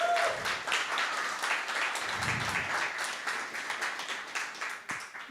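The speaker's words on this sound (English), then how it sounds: "If we can give a round of applause to Eduardo and Isa from Eclectic." An audience applauds at a TouchDesigner roundtable in London, a dense, steady wash of many hands clapping that holds for several seconds with faint voices murmuring underneath.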